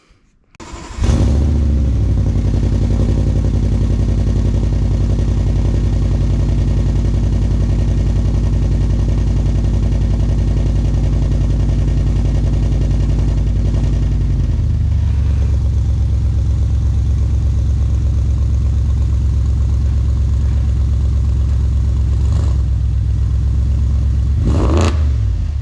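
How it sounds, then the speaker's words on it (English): An Audi RS7 with aftermarket downpipes cold starts and settles into a loud, deep, rumbling idle that holds steady, with a brief rev-like burst near the end. "we'll go ahead and try out a cold start"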